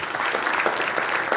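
A town hall audience at a Morris and Sussex County Democrats event breaks into applause, a thick, continuous wash of many hands clapping at steady volume throughout.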